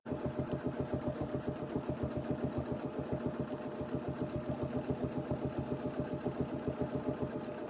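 A sewing machine free-motion quilts a curve on fabric, its needle thumping in a fast, even, unbroken rhythm, close and steady throughout with no voice.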